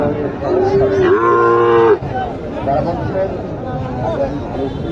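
A Sahiwal heifer lows loudly and close by at a busy cattle market in Naogaon, one drawn-out moo standing over a steady background of crowd chatter and talking voices.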